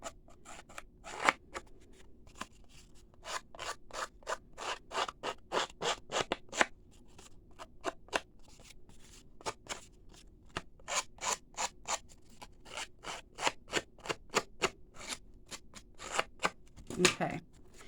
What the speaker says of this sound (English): just take the edge of your scissors and just kind of be careful, but rough